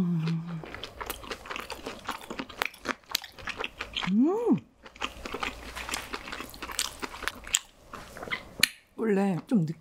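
Close, repeated crunchy bites and chewing of a Cheetos-coated pork tomahawk during a mukbang, sharp crackles in an irregular rhythm, with a couple of brief vocal hums between bites.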